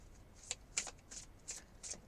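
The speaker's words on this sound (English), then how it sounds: "I just need to take some minutes sometimes to sort of shuffle the cards" Crisp bursts of tarot cards being shuffled, five quick riffles spaced about half a second apart, close and fairly quiet with no talking.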